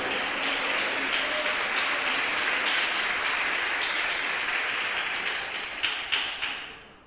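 A church congregation applauds in a steady, dense wash of clapping that holds for several seconds, then thins into a few louder scattered claps before fading out.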